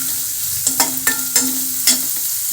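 Sliced onions sauté with turmeric and salt in a pan for papaya thoran, a steady sizzle broken by four or five distinct scraping stirs of a spoon against the pan, close and fairly loud.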